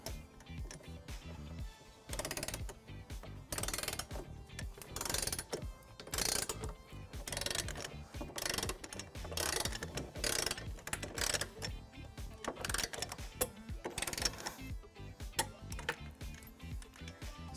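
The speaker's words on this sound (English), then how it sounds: "Now we're going to tighten and torque all of those flange nuts to the manufacturer specification." 15mm socket ratchet tightening flange nuts on a Tesla Model Y trailer hitch, repeated rapid clicking bursts of ratcheting close up, with no talking.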